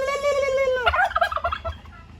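A turkey gobbles close and loud, a rapid rattling burst following a sustained tonal call, clear and prominent.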